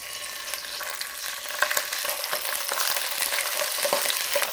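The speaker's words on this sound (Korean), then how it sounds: "껍질 쪽을 먼저 놓고 충분히 익혀주겠습니다" Marinated mackerel frying skin-side down in olive oil in a hot pan, a constant close crackling sizzle with small spattering pops and no talk.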